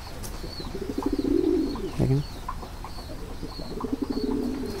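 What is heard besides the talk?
pigeons cooing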